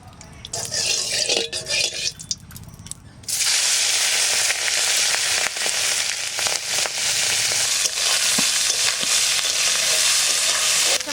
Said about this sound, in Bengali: এবার ছোট মাছটা ভাজা করব